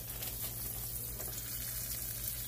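Battered buffalo drumsticks frying in hot grease, a steady, dense sizzle with a low rumble underneath that holds at an even level from start to finish, with no voices over it.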